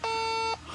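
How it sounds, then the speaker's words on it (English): A gas detector alarm reacting to methane escaping from a sewer gives one steady, loud electronic beep lasting about half a second, then stops. "the methane coming out of the sewer. There you go. There you go. It's an alarm."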